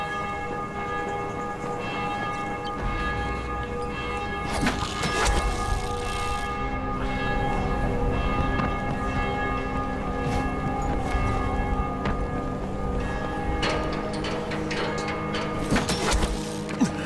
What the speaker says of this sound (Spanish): Están sonando las campanas, chicos.